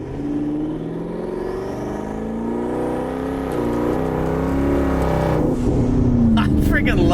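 A twin-turbo Ford Mustang Mach 1 on Precision 62 turbos accelerates at part throttle, its engine rising in a steady, loud pull with a whooshing whir building over several seconds while someone speaks over it.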